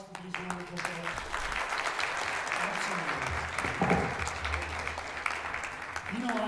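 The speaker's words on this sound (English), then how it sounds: "Can we have a round of applause for these wonderful folks?" Sustained audience applause at an NMSU-Grants 50th anniversary celebration: a dense, even wash of many hands clapping from a crowd, with a few voices mixed in.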